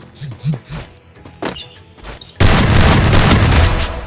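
Shotgun fire in the mobile shooter Free Fire: a few muffled thumps and a clipped voice give way to a sudden loud, sustained blast of gunfire that stays dense and close until the end.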